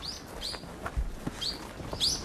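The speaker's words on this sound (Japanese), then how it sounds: "聞いてこの鳥。" Small birds chirp at a quiet forest campsite, with several short, bright tweets repeating at a moderate distance over a soft, still background.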